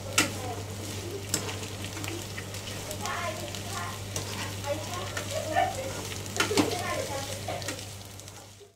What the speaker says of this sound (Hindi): दोनों भी चीज़ें हाई फ्लेम पे फ्राई कर लेंगे